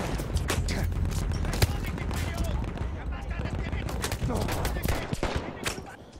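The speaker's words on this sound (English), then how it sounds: "Oh, we got artillery." Battlefield 1 battle noise with artillery fire: dense, overlapping gunshots and booms rumble steadily at mid distance, with a voice talking faintly underneath, easing toward the end.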